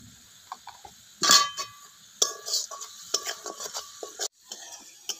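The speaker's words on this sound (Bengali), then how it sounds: "ভালো করে মিক্স করে নিচ্ছি" Spices, salt and sugar being mixed into cabbage make close, clattery scraping and stirring sounds, with a spoon knocking and rasping against the pan in short uneven strokes and one louder scrape near the start.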